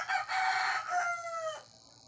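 A rooster crows once, loud and drawn out, with the call trailing off at the end, surrounded by quiet.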